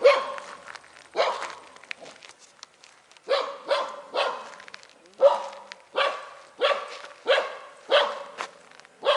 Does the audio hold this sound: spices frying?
no